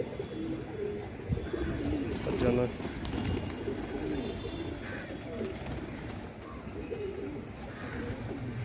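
Pigeons coo steadily on a rooftop where people keep young birds, including a Punjabi breed, a soft murmuring chorus running under a man's close speech.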